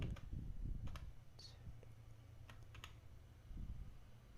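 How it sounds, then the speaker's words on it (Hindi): Quiet typing on a computer keyboard while entering a captcha code, a few scattered soft key taps and clicks at close range. "मैं कैप्चा कोड फिलअप कर देता हूँ।"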